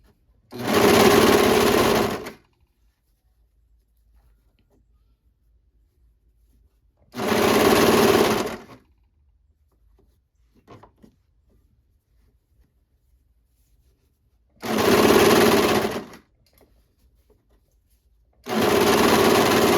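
A sewing machine stitches fabric for an upcycled patchwork hoodie, running in four loud, steady bursts of about two seconds each, with quiet pauses between them.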